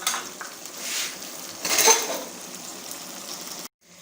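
A spoon stirs okra masala in a hot pan, dhaba style: soft scraping and clinks over a light sizzle, swelling in a few strokes before cutting off abruptly.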